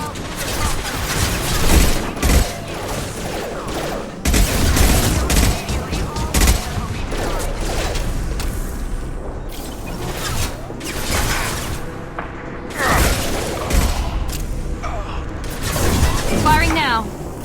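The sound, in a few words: gunfire in a battle with the Krogan, from the video game Mass Effect 2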